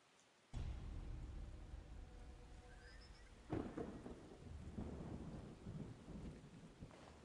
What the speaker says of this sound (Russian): Я чувствую дождь.